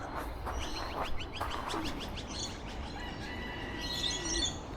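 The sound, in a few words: racing pigeons flying overhead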